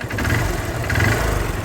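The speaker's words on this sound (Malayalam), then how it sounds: "ഇത് എഞ്ചിൻ സ്റ്റാർട്ടാക്കി വെച്ചിട്ടുണ്ട്. ഇപ്പോൾ സ്ലോ റേസിങ്ങിലാണ്." A Hero Hunk motorcycle engine idles at low revs, close and steady with an even low throbbing pulse and no voices.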